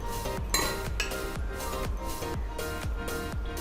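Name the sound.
pan placed on the stove to heat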